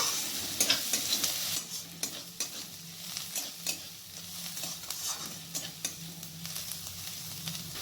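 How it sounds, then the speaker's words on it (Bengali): Onions sizzling steadily in hot oil as they are fried until reddish-brown for a soybean curry, with frequent scraping stirs against the pan, close and fairly quiet, no voices. "পেঁয়াজটা যেহেতু লাল করে ভাজতে হবে তাই হাতে একটু সময় ধরে ভাজতে হবে।"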